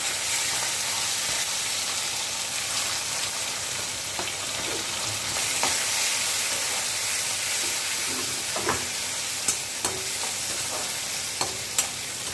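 Onion, tomato and garlic fry in hot oil in a kadai, giving a steady close sizzle with scattered scrapes and clicks as a spoon stirs them, with no voices.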